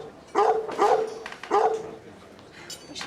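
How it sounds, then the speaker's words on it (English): A dog barks three times in quick, loud succession close by, with a softer whimpering yip trailing after in a quiet indoor setting. "We shouldn't let the waiters tease the dog like that."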